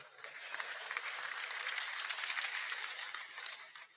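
Seminar audience at a university registry lecture series clapping, a steady dense patter of many hands heard at moderate distance, fairly faint and continuous for several seconds.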